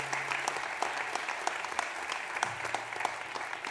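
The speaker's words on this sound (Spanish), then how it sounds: "El aplauso también de todos ustedes" A theatre audience at a live improvised verse show claps steadily, a dense, even patter of many hands filling the room with no pauses, while a faint sustained tone hums underneath.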